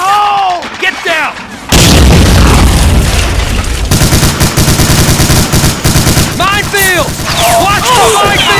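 A Bangalore torpedo explodes in an animated LEGO D-Day beach battle, followed by loud, sustained bursts of gunfire and booming artillery, with shouted voices and brief squealing sounds around the blast.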